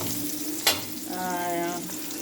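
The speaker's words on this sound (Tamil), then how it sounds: "எண்ணெய் ஊற்றி உப்பு போட்டு ஒரு கடாயில் போட்டு வறுக்கிறோம்." Bitter gourd sizzles steadily in hot oil in a pan close by, a constant hissing crackle with one sharp clack of a utensil against the pan.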